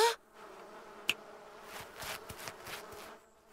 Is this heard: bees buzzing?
yes